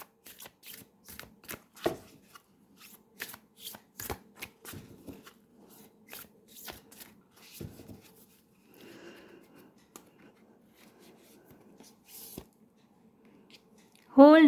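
Oracle cards are shuffled and drawn in a series of short, crisp riffles and slaps close by, with pauses between bursts and a brief voice at the very end.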